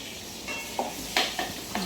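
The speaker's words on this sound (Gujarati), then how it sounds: "તતડી રહ્યું છે, તડતડ તડતડ તડતડ" Soft background hiss with a few sharp clicks and light scraping taps of a utensil in a pan, faint sizzling underneath as crushed garlic and salt temper in hot oil.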